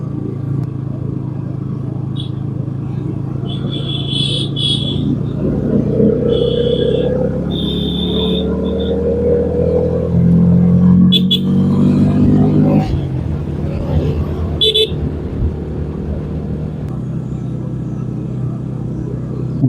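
A bus and other traffic pass close by on the road during a motorcycle ride, with steady engine rumble and wind under a rising, swelling roar around the middle as a heavy vehicle goes by.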